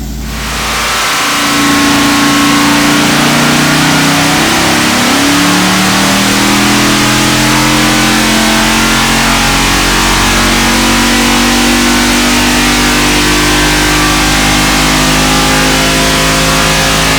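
A 454 big block Chevrolet V8 with a small cam roars loudly under load on an engine dyno, rising in a sustained pull that holds steady and close for most of the run after a brief lower start.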